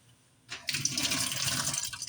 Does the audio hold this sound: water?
yes